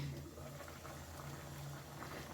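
Rasgulla boil in syrup over a high gas flame, a faint, steady bubbling and low rumbling simmer that runs on evenly for a couple of seconds, with no speech over it.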